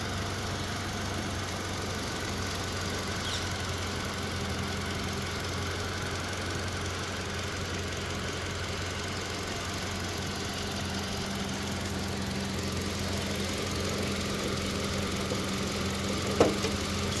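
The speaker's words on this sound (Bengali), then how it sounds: "দেখতেই পাচ্ছেন স্মুথ সাউন্ড গাড়িটির।" A 2013 Toyota Fortuner with a 2700cc engine idles smoothly and steadily, a low, even hum that holds throughout with a faint click near the end.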